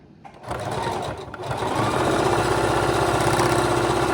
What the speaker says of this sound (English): So now I'm gonna just do a straight stitch up and down.